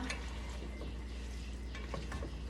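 Vegetables frying in oil in a pan give a quiet, steady sizzle, with a few soft scrapes of a utensil stirring them, heard close but low and without speech.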